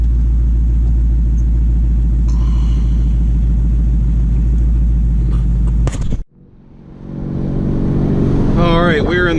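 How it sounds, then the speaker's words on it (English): A Ford Mustang with a Roush exhaust idles with a loud, deep, steady rumble and a rattling buzz, then a door thuds shut and the engine carries on muffled, with a voice briefly heard near the end. "this exhaust rattles really bad"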